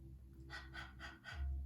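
Quick yoga breath of fire mimicking a dog's panting: four rapid, evenly spaced breathy exhales, close and moderately soft, with no talk.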